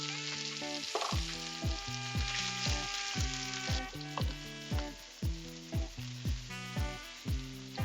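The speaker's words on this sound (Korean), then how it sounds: "뜨거운 팬에 다시 한번 기름을 붓고 이번에는 아까 썰었던 양파" Chopped onions sizzle loudly as they hit hot oil in a frying pan. A bright hiss rises right after they drop in and carries on under repeated scraping and stirring strokes at a steady rhythm.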